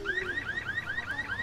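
Car alarm in the video game Resident Evil 6, a loud repeating electronic whoop cycling rapidly about six times per second, steady and close with no talk over it.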